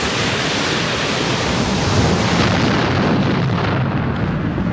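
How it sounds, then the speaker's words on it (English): A volcanic eruption blast, magma and expanding gases bursting out, heard as a loud continuous broadband roar with no clear pauses, steady and close throughout. "These erupt when magma below forces its escape."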